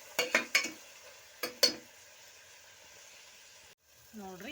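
Onions and masala fry in a pan with a steady soft sizzle, broken early by several sharp metal clinks of a spoon stirring against the pan, followed by a brief voice at the end.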